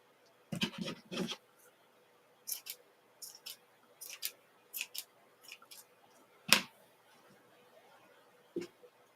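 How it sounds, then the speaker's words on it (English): Scissors snip at a yarn pom-pom being trimmed by hand, a run of quick close cuts in small bursts with pauses between, then a single sharper snip and a softer final one. "I'm afraid if I start trimming too much, I'll end up with a bald pom-pom that's half the size that it started."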